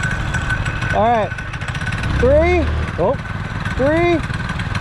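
Predator and GY6 engine go-karts drag racing, with a low engine drone running under excited voices counting down and cheering, the motor note swelling briefly mid-clip.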